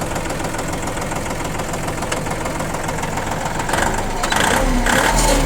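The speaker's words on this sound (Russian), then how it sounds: "двигатель работает также ровненько и достаточно хорошо" A small tractor engine runs steadily with an even, chugging idle, then revs up a little louder near the end.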